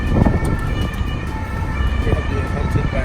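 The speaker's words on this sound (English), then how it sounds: "Being hunted by a police car." A police car siren wails through a Paris street amid loud city traffic rumble, rising and falling over a couple of seconds near the listener.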